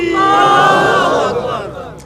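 A large crowd shouts a loud, sustained collective cry of Allahu Akbar in response to a takbir call, voices massed together and swelling before tapering off.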